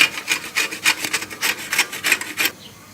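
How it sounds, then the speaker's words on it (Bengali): A raw green mango scraped against a hand grater in quick rhythmic strokes, about nine rasping passes in under three seconds before stopping, close and fairly loud with no talking. "এখানে আপনি আমটাকে নিয়ে শুধু এভাবে ঘষবেন"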